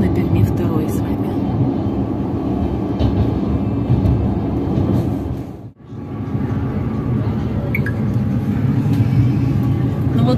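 Passenger train 354 Adler–Perm crossing the Kama bridge, a steady loud rumble of wheels and carriage noise heard from inside, with a brief dip midway before the drone resumes.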